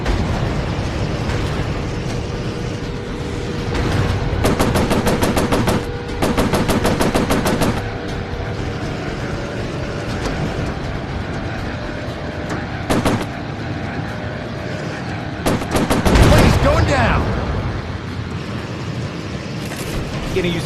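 Aircraft machine guns and cannons fire in rapid bursts during a World of Warplanes dogfight, several long rattling volleys over a constant engine drone, with a heavier burst and impact near the end.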